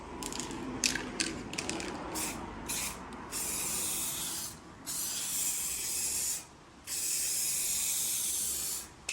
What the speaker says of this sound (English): All right, let's see what this sprays out like.